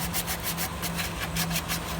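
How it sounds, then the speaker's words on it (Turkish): Continuous rough scraping of sandpaper on a Tofaş car engine part, back-and-forth strokes in a quick steady rhythm, loud and close. "Abi şu anda oralara bir zımpara işleminden geçiriyor."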